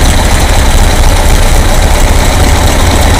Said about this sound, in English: so now the engine is running on the new distributor